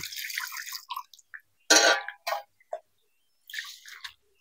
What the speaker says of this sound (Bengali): নিম পাতাগুলো আমার বাছা হয়ে গেছে, এবার ভালো করে জল দিয়ে ধুয়ে নেব।